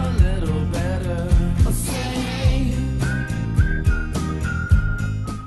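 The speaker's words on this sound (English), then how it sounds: "How about going to fill up and you got a whistling gas pump?" A whistling gas pump plays a bright whistled tune over a steady, regularly thumping beat, the melody gliding and wavering at moderate loudness throughout, with no talk.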